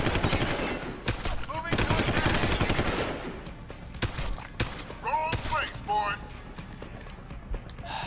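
Bursts of automatic gunfire in the video game Deus Ex: Human Revolution, rapid and loud in the first few seconds, then thinning to scattered shots and game sounds with someone talking over much of it.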